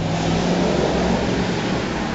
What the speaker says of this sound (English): These engines are awesome because it only takes 1 pull to start them up.